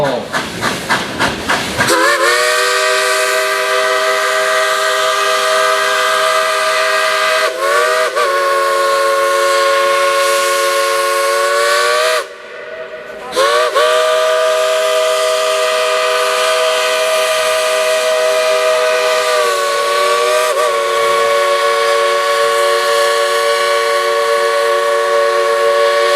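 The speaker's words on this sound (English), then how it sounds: "hear that engineer play a tune on that big ballroom locomotive whistle?" A loud whistle from a 1938 White Pass 2-8-2 steam locomotive, No. 70, sounds in long sustained chords, briefly dropping and restarting several times, with hissing steam underneath and a short gap near the middle.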